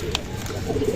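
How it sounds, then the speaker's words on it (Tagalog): Racing pigeons arrive back at the loft after a 223 km derby race in Bauang, La Union. A single short coo sounds up close, with a faint murmur of voices in the background. "9:53 may dumating na mga kalapatids."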